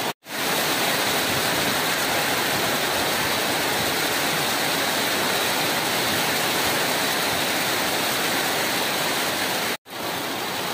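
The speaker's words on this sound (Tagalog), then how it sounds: "So, ulan kayo siya" Heavy rain pours down in a steady, dense hiss that fills the whole stretch, loud and unbroken apart from two brief cuts near the start and end, with no voices.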